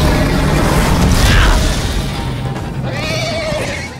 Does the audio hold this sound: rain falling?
no